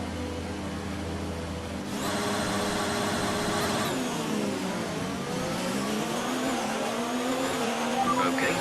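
Formula 1 car engine in F1 2019 at the race start of the Australian Grand Prix: a steady idle jumps to a loud rising roar near the two-second mark, with revs climbing and sweeping as the car pulls away, continuous and close.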